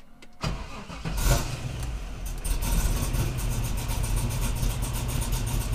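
A custom 1969 Chevrolet Camaro RS/SS engine cranks and fires, then settles into a loud, steady idle that rumbles on without a break for several seconds, with no talk over it.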